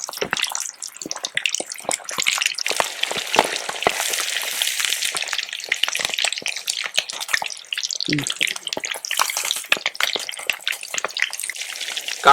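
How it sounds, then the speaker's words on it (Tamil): Quail frying in hot oil makes a steady loud sizzle and crackle, with occasional stirring and bubbling, close and continuous. "இப்ப காடையை பொரிச்சு எடுத்துருவான்."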